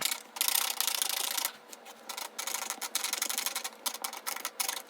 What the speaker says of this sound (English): Now I'm gonna go in with my knife and sort of scrape it so that this way it will start getting rid of some of the fabric in between.